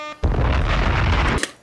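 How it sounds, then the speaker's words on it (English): A loud explosion sound effect hits suddenly as a dense, roaring blast. It holds for just over a second and then cuts off sharply, with no speech. "That was the explosion from the fat rhyme!"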